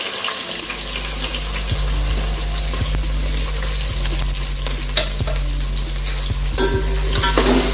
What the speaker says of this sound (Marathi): आता 2 कांदे घेतले बारीक चिरले, ते टाकते, छान परतून घेते